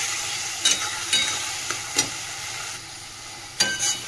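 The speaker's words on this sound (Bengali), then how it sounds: "এই মশলাটা আমি ভালো করে কষাবো" Spicy masala paste of tomato and green chilli is sautéed and stirred in a pan. It sizzles steadily, with a few sharp scraping strokes of the spoon spread through the clip.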